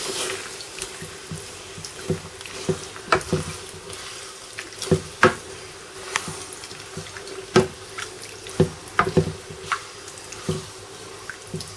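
Water is poured into a cooking pot for a lamb curry, a quiet run of trickles and irregular splashing drips spread across the stretch.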